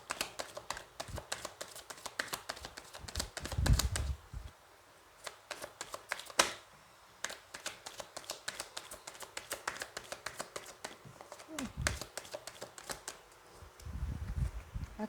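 Tarot and oracle cards shuffled by hand: rapid, crisp riffling flutters in repeated bursts with soft taps and handling thumps between them, close and fairly quiet with no talking.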